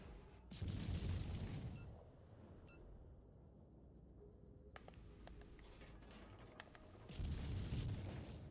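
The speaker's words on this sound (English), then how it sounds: "Musashi's desperately trying to blind fire me." In World of Warships Legends, the battleship Musashi fires its guns, heard as two deep, rumbling booms, one near the start and one at the end, faint and distant over a low steady background.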